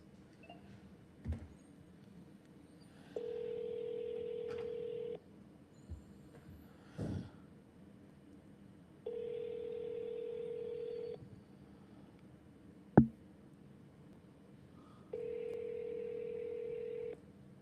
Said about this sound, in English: this is the last call we're making, so hopefully he answers the phone